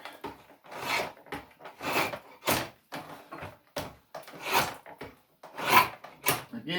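Rasping strokes shaping a taper on a wooden chair part, loud close scrapes of about half a second each in an uneven back-and-forth rhythm with short gaps between.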